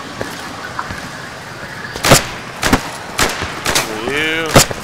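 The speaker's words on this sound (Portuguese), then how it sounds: "Vindo tiro da rua lá do outro lado, cara." Several sharp gunshots crack out at irregular intervals over a busy background, with a brief warbling tone near the end; synthetic game audio from Insurgency.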